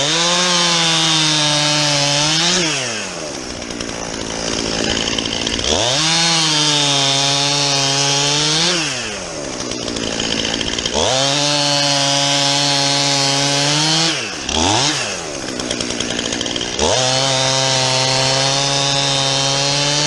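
A chainsaw cuts straight down through a felled tree log outdoors, loud and close, its engine revving in long sustained pulls that dip briefly to idle between cuts, with no voices.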